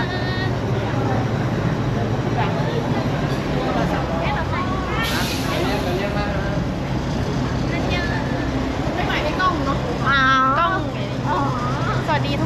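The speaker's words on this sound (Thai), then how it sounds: "เราเจอแมวใส่เสื้อ" At a zoo, a cat wearing a shirt gives a brief meow over a constant engine hum, while people talk nearby for most of the stretch.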